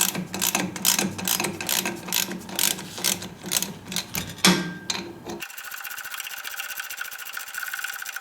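Ratchet clicking in quick irregular bursts while bolts are tightened on the track drive of an Ariens Snow Rover conversion, close and moderately loud, followed by a steadier mechanical hiss.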